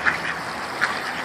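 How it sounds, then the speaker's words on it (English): Ducks being fed at a park quack several times in quick nasal bursts over a soft outdoor background, close and fairly loud. "I bet you our duck fight breaks out."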